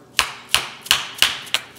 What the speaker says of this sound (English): take a dead blow hammer